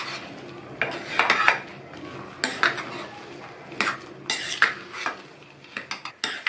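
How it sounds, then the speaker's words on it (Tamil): A metal spoon scrapes and clanks against a pan as rava is stirred with roasted peanuts and cashews, in irregular bursts of scraping strokes, close and fairly loud. "மறுபடியும் நல்லா மிக்ஸ் பண்ணி விட்டுறலாம்."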